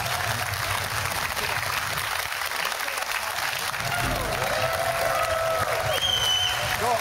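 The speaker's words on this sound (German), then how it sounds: "Applaus." A television quiz show's studio audience applauds steadily, a broad, continuous clapping with crowd noise and a few voices underneath.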